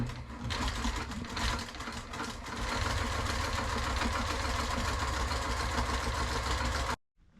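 A sewing machine runs a continuous stitch through fabric for pickup truck door panels, a steady loud mechanical whir that holds for about seven seconds before stopping abruptly.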